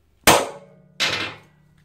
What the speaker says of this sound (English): we best centre punch them